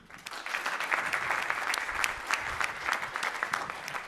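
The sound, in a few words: audience applause for presenters at a pitch competition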